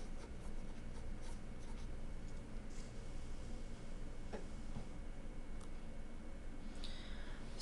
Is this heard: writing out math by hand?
yes